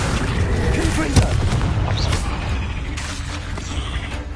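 A Confringo spell explosion in Hogwarts Legacy, a short, sharp blast rising out of a dense, noisy game soundscape and fading quickly into the continuing rumble.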